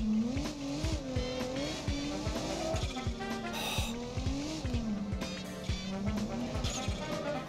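A tuned turbocharged street car engine in the BeamNG driving game revs and shifts repeatedly, with a blow-off valve hissing between throttle changes and some tire squeal, loud and continuous throughout.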